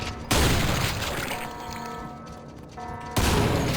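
Grenade blasts in the shooter Quake, on a brutalist-style custom map: a loud boom bursts in, a dense rumbling roar hangs on, and a second heavy blast hits near the end.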